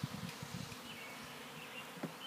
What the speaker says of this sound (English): I just give it a couple taps, so most of the bees come out